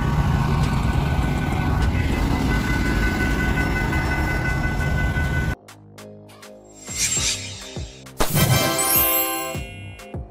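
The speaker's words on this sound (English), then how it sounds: "Fire train. Developed around 1900, fire trains carry water tanks and hoses to fight fires near railways and forests" A fire train carrying water tanks and hoses runs on rails, first as a loud, steady rumble, then as a sudden shift to quieter clanks, knocks and sharp metallic squeals at close range.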